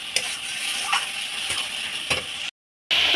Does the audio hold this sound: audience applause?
no